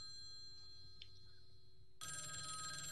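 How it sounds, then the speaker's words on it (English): A telephone rings in the video game A Sky Full of Stars, its bright electronic ring starting suddenly after a quiet stretch and continuing loud and steady. "I hear a phone ringing"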